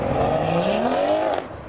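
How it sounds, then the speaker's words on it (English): A car accelerates hard in the distance at a busy memorial car meet outdoors, its engine note climbing in pitch for about a second before easing off. "Someone's doing an acceleration in the distance."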